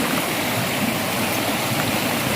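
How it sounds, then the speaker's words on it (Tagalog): Strong river current on a mountain stream in Agusan del Sur, a steady broadband rushing of water with constant turbulence and no clear individual stone impacts, close and loud throughout. "sa lakas ng tubig sa lakas ng agos ng tubig yan ang nangyayari ay gumugulong yung mga bato"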